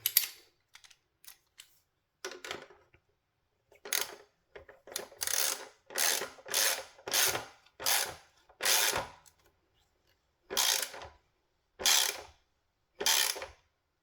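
A hand ratchet tightens the exhaust clamp on a 2025 BMW S1000R motorcycle, giving short bursts of close, crisp clicking separated by pauses, then more regular strokes that grow longer and steadier toward the end.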